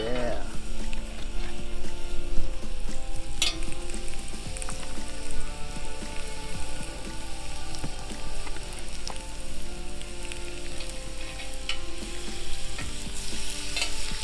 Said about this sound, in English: Listen to the sizzle, brother.